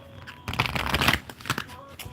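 Tarot or oracle cards being shuffled by hand during a reading, a brief burst of riffling and flapping cards, close and crisp, with soft talk around it.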